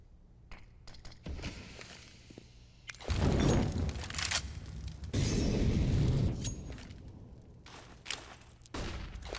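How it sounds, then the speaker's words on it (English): Grenade explosions and gunfire in Counter-Strike during a NaVi vs OG Blast Premier match, heard as two long, loud booming rumbles with sharp bursts and pops before and after. "Just waiting for that top mid nade to come down."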